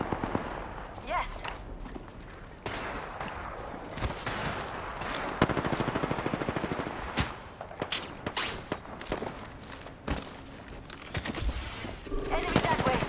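Rapid automatic gunfire in Apex Legends, with bursts and scattered shots crackling fairly loud through a dense combat mix, with a few heavier thuds and steps, and speech under it.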